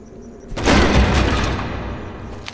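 Wooden barrels smashed in the fantasy RPG Drakensang: The River of Time, a sudden loud crashing burst that starts abruptly and then decays into a long rumbling rattle of debris, with no talking.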